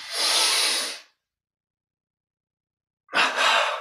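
Two sharp inhales during Kriya Yoga breathing practice, a long airy breath followed by silence and then a second quick, forceful intake, close and clear with no talk.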